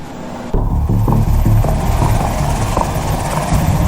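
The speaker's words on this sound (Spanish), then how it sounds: "Este helicóptero esperaba afuera del hospital Oftama." A helicopter waiting outside Oftama hospital, its rotor beating in a loud, steady, rapid thump that starts abruptly and continues close by without talk.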